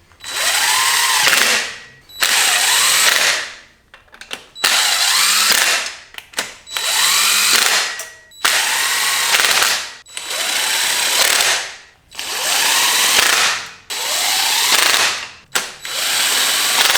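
A power tool snugs down bolts with about eight repeated bursts, each a loud rising whir that ends abruptly, separated by short pauses.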